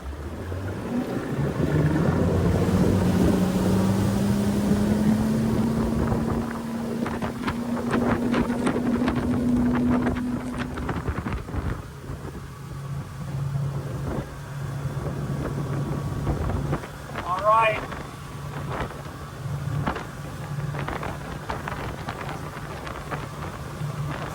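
An old rebuilt boat's engine pulls from a hole shot toward wide open throttle, its drone climbing steadily in pitch for about ten seconds before settling into a sustained roar under heavy wind buffeting.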